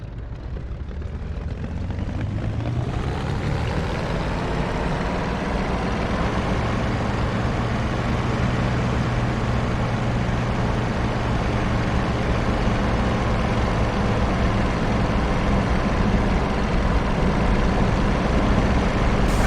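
Bf109 K4 engine in the DCS flight simulator pushed up to takeoff throttle, a deep propeller-driven roar that builds within the first few seconds and then holds loud and steady, droning continuously with no talk.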